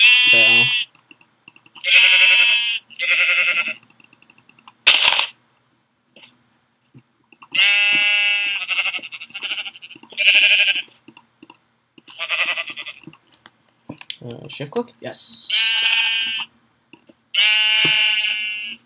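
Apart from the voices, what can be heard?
sheep bleating in video game Minecraft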